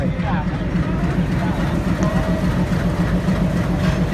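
The 11302 Udyan Express passenger train rumbles steadily along toward Mumbai with a constant low mechanical drone and faint rhythmic clatter, loud and continuous throughout.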